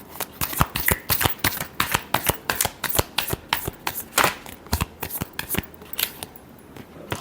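Tarot cards are shuffled by hand in a long run of quick, crisp riffling bursts with an even rhythm, close and clear, with no voice over them.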